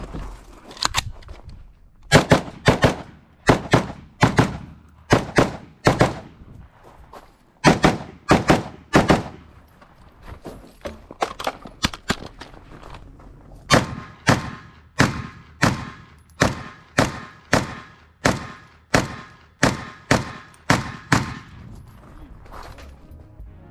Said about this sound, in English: shooting mixed rounds, man. You can tell.